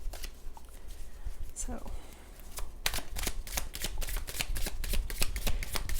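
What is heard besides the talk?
shuffling tarot cards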